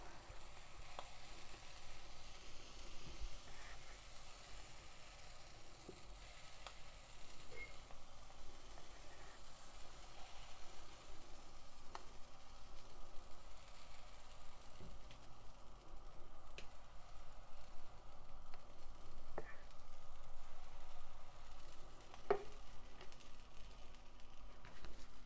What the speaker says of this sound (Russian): оладушки я буду делать вот на такой сковороде